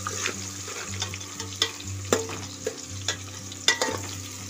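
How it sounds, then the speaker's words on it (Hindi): Onions frying in a pan for harees or haleem, a steady close sizzle under a low hum, with sharp scraping clicks of a spoon stirring every second or so. "प्याज को भी इसका कच्चापन खत्म होने तक इसको भूनना है।"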